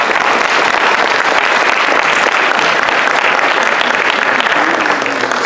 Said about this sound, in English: as Jim encourages more applause